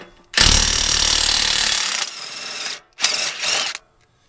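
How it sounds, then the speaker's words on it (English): Power tool removing an exhaust slip joint on a 2017 Camaro RS, a loud close whirring burst lasting about two seconds, then a shorter second burst. "Power tools are freaking amazing."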